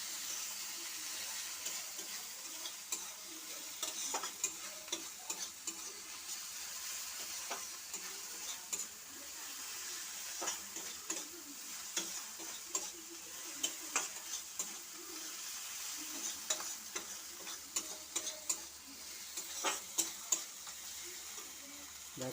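Spice paste fries with a splash of water in a pan, a steady close sizzle running throughout with frequent sharp clicks and scrapes of stirring, no talking.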